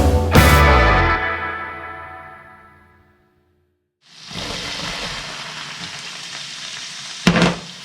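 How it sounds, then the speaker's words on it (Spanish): Cuttlefish sears in a hot pan with a loud, bright sizzle that fades away, drops into a brief silence, then returns as a steady frying hiss topped by a short clatter near the end. "La sepia, en este caso, hay que cocinarla unos 2-3 minutos, no más, justo que selle la carne"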